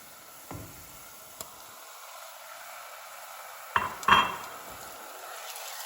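Tomatoes going into a pot of golden fried onions for a vegan Eritrean shiro. There are faint clinks and scrapes of a utensil against the pot, with a short cluster of clattering contact near the end and a quiet background.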